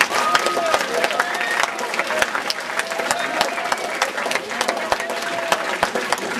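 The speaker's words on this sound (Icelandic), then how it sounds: "En nú gefið þið bara allsherjar klapp." A crowd at a school open day claps for a makeup contest prize-giving, with steady, lively applause, sharp individual claps standing out, and chatter and cheering mixed in throughout.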